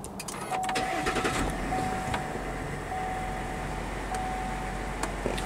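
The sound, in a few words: 2020 Ford 3.0L Duramax diesel truck engine starting and idling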